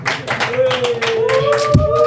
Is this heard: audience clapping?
yes